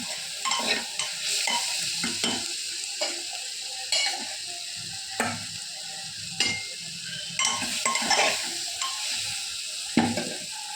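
Fresh mint and coriander leaves sautéed in a hot pan, a steady close sizzle broken by repeated scraping stirs of a spoon against the pan at irregular intervals, with no talk.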